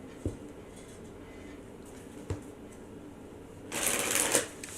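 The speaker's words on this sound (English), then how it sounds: "I'll shuffle down here so it's not so loud." A short burst of riffled tarot card shuffling near the end, after a few soft taps and a quiet room, fairly close and moderately loud.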